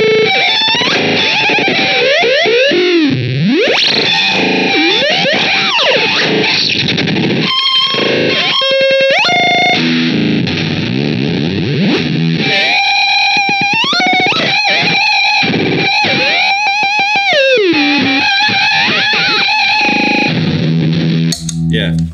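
Electric guitar playing high notes through a JPTR FX Super Weirdo pedal gives loud, chaotic glitchy effects, with warbling pitch sweeps, stuttering bursts and sudden jumps, close and continuous.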